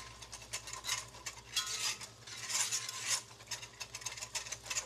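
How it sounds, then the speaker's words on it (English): Country ham gravy stirred in an iron skillet, with a soft, continuous scraping and swishing of the utensil through the thick gravy and faint light clinks, close by and fairly quiet. "so we're going to keep stirring it a little bit"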